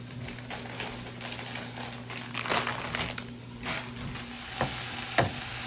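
A steak sears in a hot pan, a steady crackling sizzle with scattered sharp pops and spits, close and fairly even in loudness throughout, with no voices.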